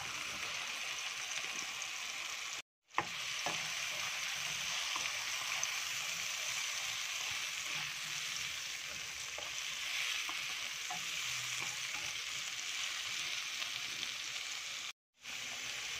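Bitter gourd (ampalaya) fries in a pan with bell pepper, a steady close sizzle with soft stirring scrapes, briefly cut off twice.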